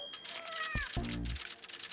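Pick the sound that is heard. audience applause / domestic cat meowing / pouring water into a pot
domestic cat meowing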